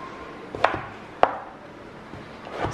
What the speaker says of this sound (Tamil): ஸோ பெரிய பெரிய துண்டாட்டு கட் பண்ணிடுறேன்